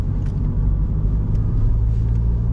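A 2004 VW Polo 1.9 TDI driving on a road while exiting a roundabout, heard as a steady loud engine and tyre rumble from inside the car throughout, with a couple of faint clicks.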